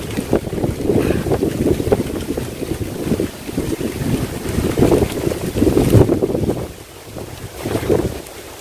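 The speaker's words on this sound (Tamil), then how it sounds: "காத்து சிலு சிலுன்னு அடிக்குது." Cool breeze after rain gusts steadily across a misty, cloud-covered outdoor spot, a constant low rushing of wind buffeting the microphone, swelling in stronger bursts and easing off toward the end.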